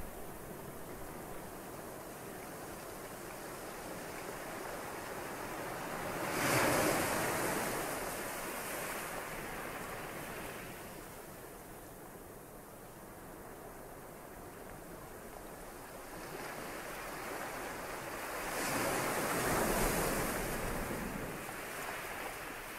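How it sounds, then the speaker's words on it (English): Gentle ocean waves wash onto the shore in slow, soft swells, two fuller surges building and receding over a steady hiss of surf, calm and unhurried. "the cleansing sound of the serene washing waves like a comforting lullaby"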